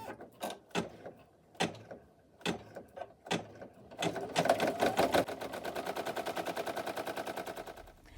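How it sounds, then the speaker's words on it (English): A Singer embroidery machine stitches the placement outline for an extra-large double-layer appliqué patch, starting with scattered separate clacks, then settling into a fast, even, near-mechanical rattle of rapid needle strokes that runs steadily to the end. "This is going to stitch the placement stitch for the first half of the design of the second layer."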